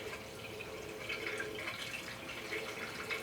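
Plain water trickles and drips as it is poured into the power steering or cooling system of a 1979 Ford Bronco with a Gen III Coyote swap, faint and steady, with soft splashy bubbling.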